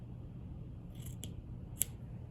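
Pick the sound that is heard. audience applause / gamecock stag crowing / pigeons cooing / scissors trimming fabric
scissors trimming fabric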